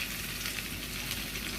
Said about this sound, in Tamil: ஒரு 4-5 வடை பொரிச்சு எடுத்துட்டு மிக்சியில் வைக்க போகிறேன்.